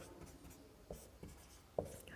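Pen writing on paper while solving a maths problem, faint scratchy strokes with a few sharper taps, close and quiet, no voices.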